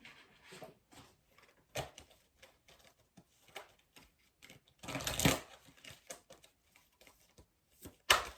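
Lightworker Oracle cards are shuffled by hand, producing soft scattered riffling taps and a denser rustling burst near the end, close and quiet, with no voice over them.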